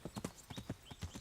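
Horse hooves clip-clopping in the medieval game Kingdom Come: Deliverance, a steady walking rhythm of about ten soft, close hoof strikes over quiet background.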